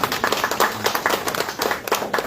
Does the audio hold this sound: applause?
yes